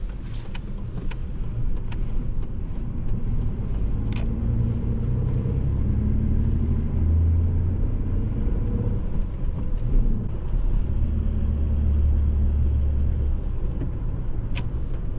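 A car driving along a road toward Tremont in the Smoky Mountains, heard from inside as a steady, close low engine and road rumble with faint clicks and no talking.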